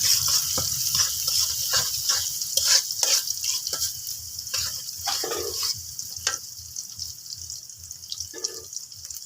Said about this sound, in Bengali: পেঁয়াজটা হালকা ভাজা ভাজা করবো